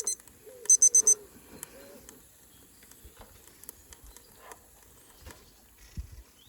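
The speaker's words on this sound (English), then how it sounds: "You may have to listen for the buzzer if you can't see it." A cooking thermometer's short electronic buzzer beeps in a quick series of four pulses at a barbecue, then fades into quiet with faint clicks and handling sounds.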